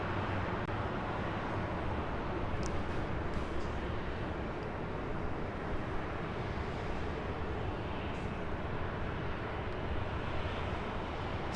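A Southwest Airlines Boeing 737-700 takes off at LAX, heard as a steady, broad engine roar that holds evenly at a distance for the whole stretch with no pauses.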